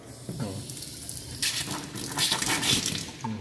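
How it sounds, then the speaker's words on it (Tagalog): Water gushing strongly from a lavatory tap in a small loft house, starting partway through and splashing loudly in a basin, with quieter room noise before it. "Ang tubig po nito malakas."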